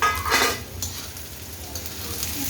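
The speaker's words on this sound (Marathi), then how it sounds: "लगेच आपल्याला हे तोंडली चिरलेली ती टाकून घ्यायची" Chopped ivy gourd (tondli) tossed into a pan of fried onions, a brief burst of sizzling and clinking as it lands, then a softer steady sauté sizzle, close and moderate.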